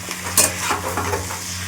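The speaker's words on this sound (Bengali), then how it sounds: "ধীরে ধীরে ওপর নিচ করে নাড়াচাড়া করতে থাকি তো একদম ঝিমু আছে এবার কষানো হোক" Vegetarian jackfruit curry with a little garlic is stirred and fried in a pan, a brief close sizzle with a sharp scrape of the spoon near the start and softer turning sounds after.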